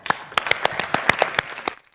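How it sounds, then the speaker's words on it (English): Conference audience claps for panelists after a panel on tourism and climate change, a scattered round of distinct hand claps from a modest crowd that thins out and stops near the end. "if we can give one more hand of applause to our panelists"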